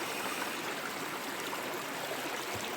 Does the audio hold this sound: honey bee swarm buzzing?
no